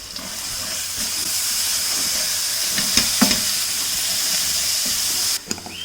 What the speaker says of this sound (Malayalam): ഇനി നമുക്കിതിലേക്ക് ഈ അരച്ച് വെച്ചിരിക്കുന്ന അരപ്പിട്ടിട്ട് ഇളക്കി കൊടുക്കാം.